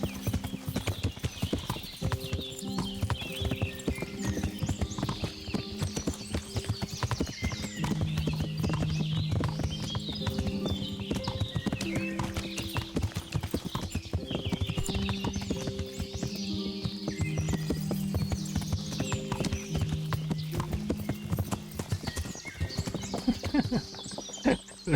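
Horses galloping in the Kingdom Come Deliverance video game: continuous rapid hoof clip-clop under steady game music, with faint talk in the background.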